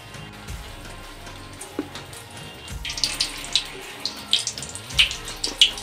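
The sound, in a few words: crab brain chops frying in hot soybean oil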